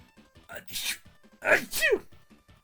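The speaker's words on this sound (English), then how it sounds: "What a bad time to sneeze" A sudden sharp sneeze bursts out, preceded by a short gasping intake, with brief talk-like sounds before it.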